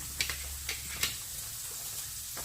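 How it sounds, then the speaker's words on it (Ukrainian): Pork fat sizzles steadily in a pan with a constant hiss, broken by a few sharp pops and ticks. "А поки в нас засмажечка смажиться"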